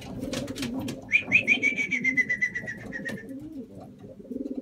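Racing pigeons coo in a repeated, throaty rhythm close by, with a higher chirping call riding over the cooing for a few seconds.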